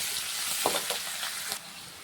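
Onions frying with chopped coriander leaves in a pan for a spiced tomato curry, giving a steady close sizzle with a few soft stirring scrapes and no talking.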